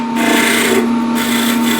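A hand plane peeling thin wood shavings, one continuous close rasping stroke with a steady tonal hum underneath, loud and alone.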